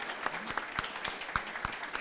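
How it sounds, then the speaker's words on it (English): An audience at a graduation ceremony applauds, steady clapping from a crowd with distinct claps standing out in a moderately distant mix. "It's the day of applauses now for Irene Rocamora."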